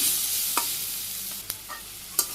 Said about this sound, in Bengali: এখন আমি আবার ভালো করে কষে নিই আলুগুলো মশলার সাথে